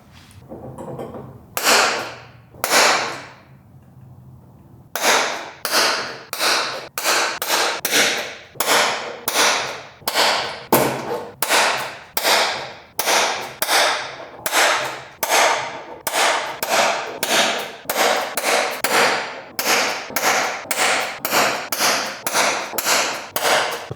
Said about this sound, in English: So now it's time to start punching holes.